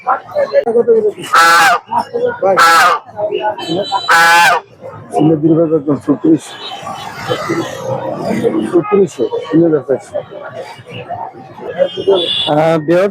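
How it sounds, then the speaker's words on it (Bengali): Loud geese honking repeatedly in short bursts amid a busy crowd at the Hasnabad poultry market, with people talking nearby and other fowl calling in the background. "দেখতে পাচ্ছেন এখানে খুব সুন্দর একটা রাজাস আমরা দেখছিলাম"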